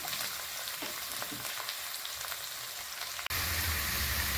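Mustard seeds, chana dal and onion frying in hot oil, a steady close sizzle with scattered crackles, shifting to a denser, lower hiss partway through after a brief break.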